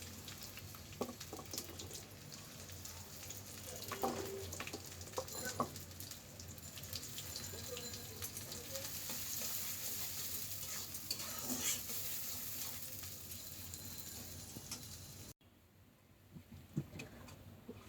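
Chopped onions frying in hot mustard oil, a continuous close sizzle with occasional stirring scrapes that lasts most of the time and then drops away abruptly to a quieter tail.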